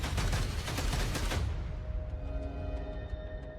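Rapid automatic MP5 fire in Call of Duty: Black Ops 6 rattles loud and dense for about a second and a half, then cuts off into a quieter tonal game soundscape.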